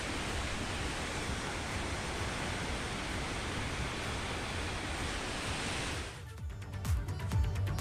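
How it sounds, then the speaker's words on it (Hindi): Rushing water from a swollen river in monsoon flood roars as a steady, loud broadband wash for about six seconds, then gives way to softer, uneven thumps and rustling. "उफनाई हुई नदियां"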